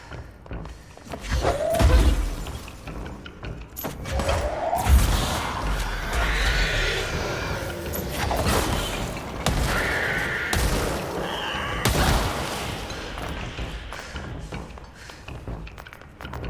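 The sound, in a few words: explosion in Control video game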